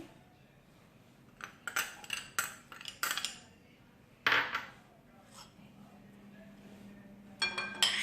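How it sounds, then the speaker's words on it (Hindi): A spoon mixes spices into yogurt for homemade dahi baray in a bowl. Irregular close clinks and scrapes come in short bursts between quieter pauses. "अब इन तमाम चीज़ों को हम दही में अच्छे से मिक्स कर रहे हैं"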